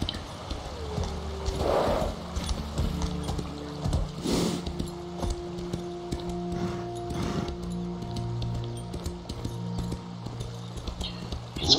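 Horse hooves clop steadily in The Elder Scrolls Online as a mount runs, a continuous rhythmic beat over humming game music and ambience.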